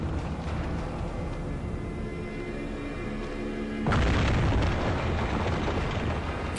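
A tower collapses in the Eragon video game with a sudden, loud, dense crash that bursts in partway through and sustains as heavy rumbling debris over the continuing game noise.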